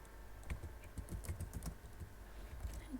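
Fast typing on a computer keyboard during a game session, a close, quiet burst of irregular key clicks with no talking.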